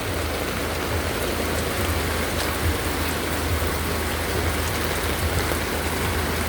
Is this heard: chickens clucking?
no